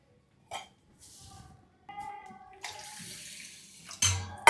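Water poured into a cooking pot of rice in a home kitchen, several short splashy bursts and a steady running stream, close and moderately loud, with no talking.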